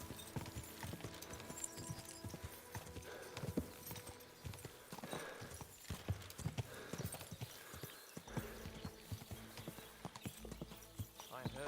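Horse hooves clip-clop steadily in the medieval game Kingdom Come: Deliverance II, a close, rhythmic trot of repeated strikes with faint harness and mechanical rattles, running under quiet background voices.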